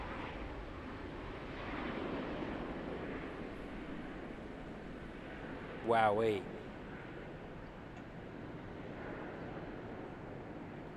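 An Emirates Airbus A380 departs Christchurch Airport in New Zealand at sunset, its broad, steady jet roar holding across the whole stretch while a man gives a short excited exclamation partway through.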